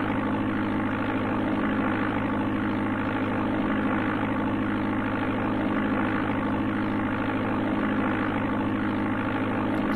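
Aircraft engine drone from the Amiga game Flight Simulator II, a steady, loud, continuous propeller-engine hum with a constant pitch throughout, heard alone without talk.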